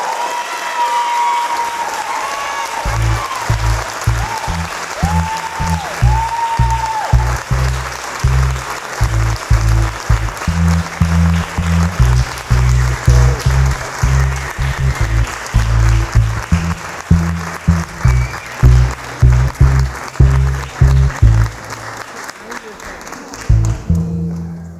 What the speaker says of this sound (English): Another round of applause for Curtis.